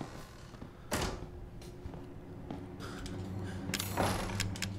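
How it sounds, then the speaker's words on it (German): A door closes in the video game Resident Evil 7, with mechanical creaks, sharp knocks and clunks over a low steady ambient drone. "So, Türe zu."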